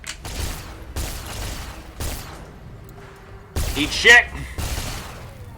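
Bursts of energy-weapon fire from an overpowered sonic gun in Fallout: New Vegas, several broad blasts with a warbling tonal whine, mixed with a shouted voice.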